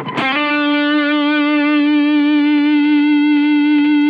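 Electric guitar played through a DV Little GH 250 tube amp with the gain turned up, one sustained overdriven note ringing with a rich harmonic stack after a sharp pick attack, loud and steady for about four seconds with no talk.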